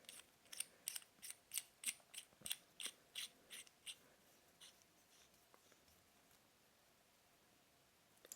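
Small metal parts of a vape mini tank are screwed back together, making a run of about a dozen faint, evenly spaced thread clicks that taper off into near silence. Close and quiet, with no talking.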